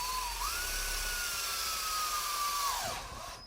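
A power drill whines steadily for about three seconds while drilling into a standing Uncle Sam cake structure, its pitch rising slightly as it spins up, then winds down abruptly near the end.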